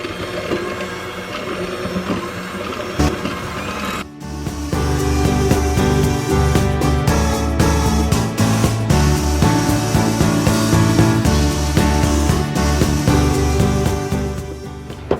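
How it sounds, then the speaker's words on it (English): Electric hand mixer beating butter into cake batter for a Plazma torta, a loud, steady mechanical whir with rattling clicks that starts after a few seconds of lighter handling noise and runs continuously. "I'm going to use a hand mixer to mix it in"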